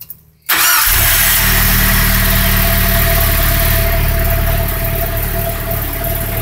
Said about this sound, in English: So I'm gonna put it in neutral. Start the car.